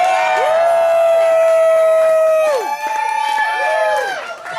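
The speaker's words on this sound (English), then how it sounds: "Let's just get a hand for her" Comedy club audience whoops and cheers for the comedian's wife Leanna, long drawn-out hollers from several voices, loud and close, rising and falling over faint clapping.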